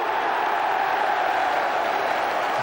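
Steady roar of a large football crowd at Highbury during a Manchester United versus Arsenal match, a continuous dense wash of voices and noise with no break for nearly three seconds.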